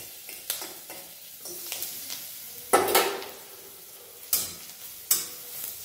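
Soft sizzling of garlic frying in butter in a wok, with occasional louder scraping stirs and clinks of a utensil against metal.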